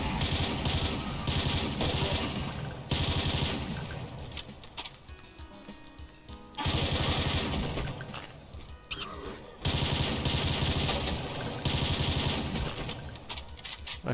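Rapid automatic gunfire in a Doom mod, near-continuous loud bursts with brief lulls between strings of shots.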